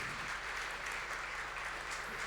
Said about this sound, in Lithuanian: padovanokim aplodismentų truputėlį mūsų šiandien